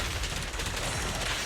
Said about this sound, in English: you can hold his basic attack and do charge shots like that